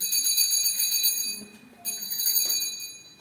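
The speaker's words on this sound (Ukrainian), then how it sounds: "На перший урок скликає ось такий веселий дзвінок." An electric school bell rings loudly to call children to their first lesson, two sustained bursts separated by a brief pause.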